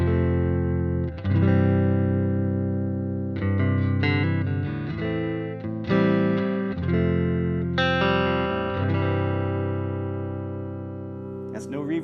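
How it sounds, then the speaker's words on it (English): Strat neck pickup through a Fender '68 Custom Vibro Champ amp with no reverb, playing sustained chords and notes with a slightly gritty, glassy tone, loud and close, notes ringing and decaying between strums. "That's no reverb, no nothing."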